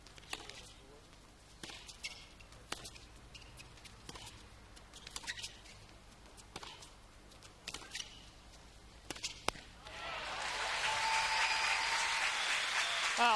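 Applause from the crowd at a 1999 Fed Cup Final tennis match. A few scattered claps and court sounds give way to a swell of clapping near the end.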